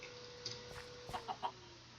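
Chickens in modded Minecraft, a few short, quiet clucks and squawks scattered over a faint steady background hum.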